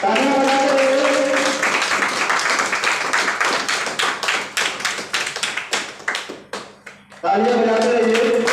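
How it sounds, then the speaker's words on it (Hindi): An audience claps at an honoring ceremony. A dense patter of hands builds after someone speaks, then thins into scattered claps before his voice returns. "तालियां बजाते रहिए"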